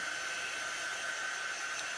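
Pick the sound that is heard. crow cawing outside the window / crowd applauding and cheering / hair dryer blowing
hair dryer blowing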